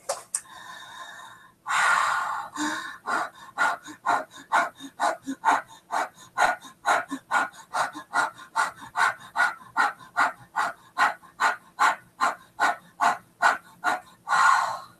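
A person pants rapidly during Fire Breath breathing practice, quick even breaths about two per second, close to the microphone, after a longer initial exhale.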